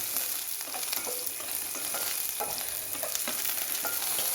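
Okra fries in hot oil for a rainbow sambar, giving a steady, loud sizzle throughout with light scraping stirs breaking through now and then.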